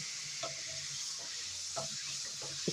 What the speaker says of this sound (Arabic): هنزل بيها في الزيت بعد ما سخن كويس جدا كميه من الخلطه اللي معايا، اللي هو الخل والتوابل والثوم